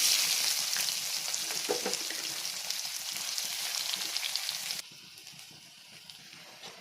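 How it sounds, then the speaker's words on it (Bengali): Onions sizzle and crackle in hot oil, a steady loud frying hiss that drops abruptly to a quieter sizzle partway through. "তেলটা গরম হয়ে গেছে, আমি এখন দিয়ে দেবো পেঁয়াজ"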